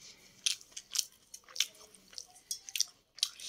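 Someone chewing crisp fried bitter gourd with raw onion, giving close, quiet crunchy bites in an uneven rhythm with short pauses and no talking.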